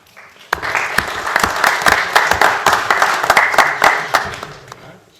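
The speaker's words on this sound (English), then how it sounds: "let's give these neighborhood college graduates a round of applause" Audience applause at a Hickory city council meeting for neighborhood college graduates, loud close hand clapping that starts abruptly and keeps a brisk, uneven patter with sharp individual claps until fading at the end.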